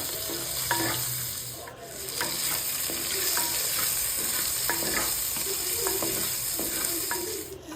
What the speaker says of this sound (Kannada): ಈಗ ಈರುಳ್ಳಿ ಚೆನ್ನಾಗಿ ಫ್ರೈ ಆಗಬೇಕು. ಸೊ ಅದು ಫ್ರೈ ಆಗ್ತಾ ಇರಲಿ